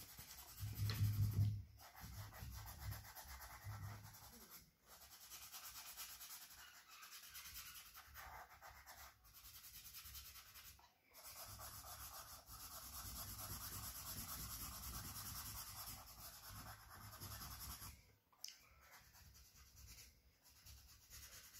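Orange colour pencil rubbed steadily across paper, a continuous close scratchy shading sound with brief pauses as strokes restart, quiet and alone.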